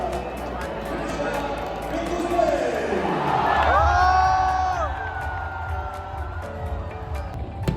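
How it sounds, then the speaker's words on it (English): Large stadium crowd roaring and cheering at the IPL 2025 opening ceremony for KKR vs RCB, with a dense, sustained wash of voices that swells midway, cut through by whistles and whooping shouts. "The crowd was going wild"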